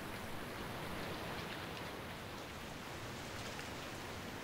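Rain pouring down around a D-Link DCS-930L network camera left outdoors, a dense, even hiss of falling drops with no breaks, steady and fairly soft, no voices.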